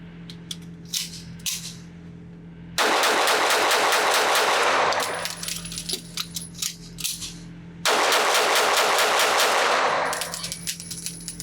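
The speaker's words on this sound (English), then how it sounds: "So let's go back to the range and shoot this gun one more time." An HK P7 K3 pistol chambered in .380 ACP fires at a shooting range in two loud, rapid strings of shots lasting several seconds each. Quieter clicks and handling noises come before and between the strings.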